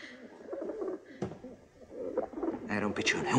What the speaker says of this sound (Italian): Era un piccione, un maledetto piccione.